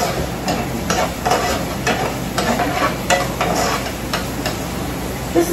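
Onions sautéing in a pan, a loud continuous close sizzle with regular spatula taps and scrapes sounding every half second or so.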